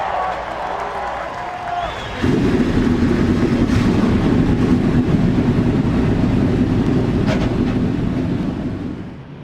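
Field of NASCAR race car engines in the game NASCAR Racing 2003 firing up together into a sustained loud, dense roar that holds steady, fading slightly at the end.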